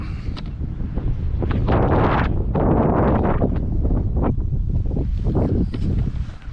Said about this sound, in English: but the wind's blowing. I hope there's not too much background noise.